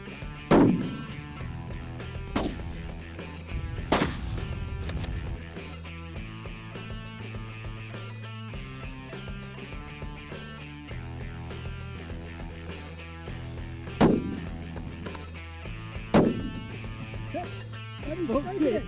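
Rifle shots during long range shooting training in Wales, a handful of sharp, loud cracks spaced several seconds apart over quiet background music and talk.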